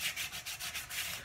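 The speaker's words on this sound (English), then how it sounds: "sort of a very pressured sanding here" Light hand sanding along the outer edge of a wooden dining table, a soft rhythmic rasping of repeated short strokes, close and fairly quiet with no talk.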